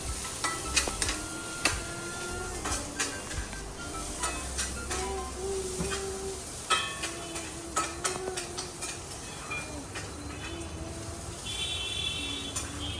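Food being stirred in a pan over a soft sizzling hiss, with repeated spoon scrapes and taps against the pan at an irregular rhythm, close and fairly clear, with no speech.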